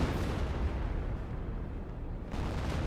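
An M2 artillery barrage in the Company of Heroes strategy game: a dense, continuous rumble of overlapping explosions, steady and loud for a few seconds.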